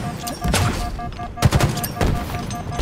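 Halo Infinite gunfire sounds as several sharp, loud shots with one heavy blast in the middle, set against continuous game background noise.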